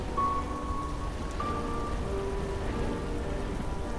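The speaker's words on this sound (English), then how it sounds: "heavy rain lashed against the windows that night" Heavy rain lashing against windows during a sudden nighttime storm, a steady dense hiss of drops drumming the glass throughout, loud and continuous with no voices.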